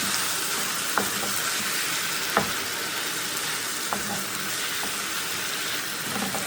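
Spice masala with salt for a taro root and mutton curry fries in a pot, a constant loud sizzling hiss broken by a few distinct stirring clanks, close up with no talking.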